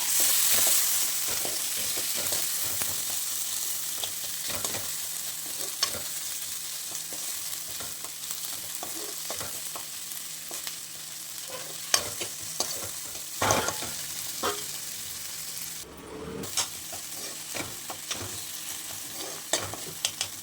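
Chicken curry base of ginger-garlic paste frying in a pan, a steady sizzle under repeated scraping and stirring strokes, with occasional louder clinks of the spoon against the pan.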